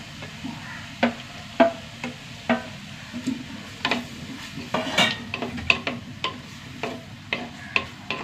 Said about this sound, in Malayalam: തക്കാളിയും കൂടി വഴണ്ട് വരട്ടെ